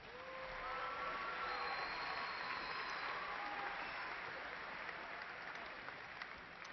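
A commencement audience at a university graduation applauds steadily, a broad, sustained wash of clapping from a large crowd that stays even throughout with faint tonal hum in the background.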